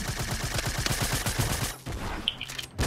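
Rapid automatic gunfire from the mobile version of Fortnite rattles off in a fast, even burst of close shots. It stops abruptly, leaving a brief quieter stretch with a couple of faint game sounds.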